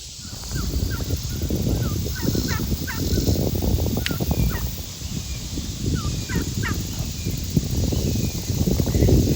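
Several turkeys gobble repeatedly in bursty rattling calls, some nearer and some farther, over a constant outdoor background hum.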